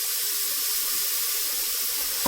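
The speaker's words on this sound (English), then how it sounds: "I will just add a little drop of water." A little water is poured into a hot pan of chilli chicken and vegetables, producing a steady, loud hiss and sizzle that runs continuously from start to finish with no talk.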